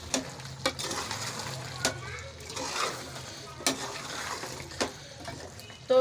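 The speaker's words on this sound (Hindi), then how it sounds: "तो अब हम इसमें दही ऐड कर देते हैं।" Yogurt goes into frying masala chicken for a large batch of korma, a soft sizzle under sharp metal clinks of a ladle against the pot, with someone talking now and then.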